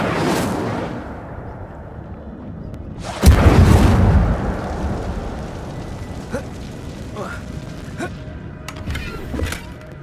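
An Incendio fire spell cast in the wizarding game Hogwarts Legacy bursts out as a loud whooshing roar that fades over a second or two, followed by faint scattered clicks and rustles.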